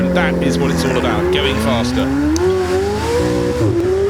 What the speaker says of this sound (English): That's the sound of a McLaren 765 LT